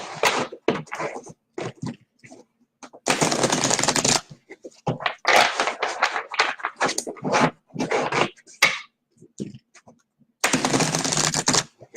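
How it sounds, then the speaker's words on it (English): Bursts of cards being shuffled, riffled in several quick runs with brief pauses between, close and fairly loud. "I am going to shuffle the cards here"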